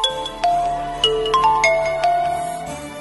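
A phone ringtone plays a bright melodic sequence of electronic tones and chimes, loud and close, repeating notes at a quick uneven rhythm with no voices.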